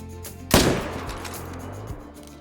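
A single rifle shot fired at a deer in the hunting game theHunter: Call of the Wild, a sharp loud crack followed by a long rolling echo fading out.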